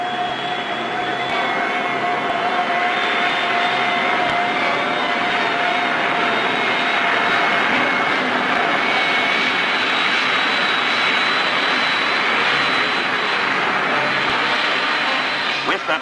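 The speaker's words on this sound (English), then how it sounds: "These are the original films of the first jet plane ever to fly in America." An early American jet plane from 1942 roars steadily in archival film audio, a loud continuous turbine whine and rush that holds at near-constant intensity throughout.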